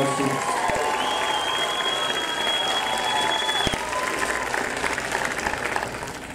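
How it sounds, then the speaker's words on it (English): Audience applause with some cheering fills a graduation ceremony for a high school class of 2023, a dense, steady wash of clapping from a large crowd that holds for the whole stretch. "Can we please give her a quick round of applause for taking time out of her busy schedule to join us to support our students?"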